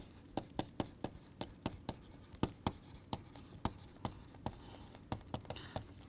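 Chalk or marker strokes tapping and scratching on a board as physics equations are written during a lecture, a series of sharp, irregular, close clicks over quiet room tone.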